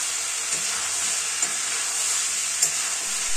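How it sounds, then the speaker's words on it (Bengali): Brown stew chicken with fried potato pieces stirred in a pan, a constant loud sizzle and hiss of frying, broken by a few faint knocks of the spoon. "আবারও আমরা সব কিছু খুব ভালোভাবে নাড়াচাড়া করে নেব।"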